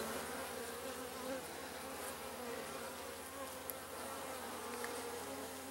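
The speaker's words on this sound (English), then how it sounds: "You can see a bee right in the middle here that has some nice pollen on her sacks." Honey bees buzz in a steady, dense hum during a hive inspection, close and continuous, with occasional louder passes of individual bees near the listener.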